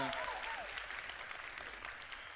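A seminar audience claps together in a brief, steady burst of applause, heard faintly and from some distance, with a voice briefly audible at the start.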